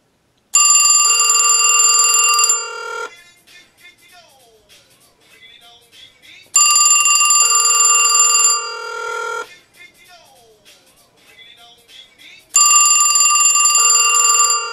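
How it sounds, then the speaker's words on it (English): A grandfather's vintage telephone bell rings loudly in three long bursts of about two seconds each, separated by pauses that carry quiet room noise and faint movement, during testing of a telephone line ringer. "Oh, the phone's ringing."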